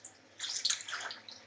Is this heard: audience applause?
no